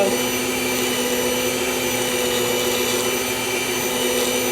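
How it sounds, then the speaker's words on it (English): A stand mixer on its creamy batter setting beats banana pudding cake batter, a steady loud motor whir with an even drone that holds throughout. "on my stand mixer here, it's got a setting for creamy batter"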